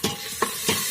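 Chicken pieces dropped into hot oil with garlic, ginger, onion and salt in a pressure cooker hiss and sizzle in three quick bursts, close and moderately loud, with stirring between them.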